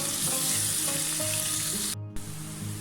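Garlic and ginger paste with chopped ginger fries in a pan as qeema palao is started, a steady loud sizzle with soft stirring, briefly cut off near the end before the frying resumes.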